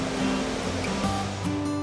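Continuous roaring rush of falling water at Iguazu Falls, a very wide waterfall, loud and steady throughout, with a faint tonal hum underneath.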